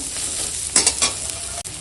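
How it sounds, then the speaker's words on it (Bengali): Whole cumin seeds fry in hot oil with onion and green chilli, a loud close sizzle with a few sharp bursts of stirring and scraping in the pan. "এখন দিয়ে দেবো গোটা জিরে ওটা জিরেটা দিয়ে একদম সুন্দর করে ভেজে নেবো"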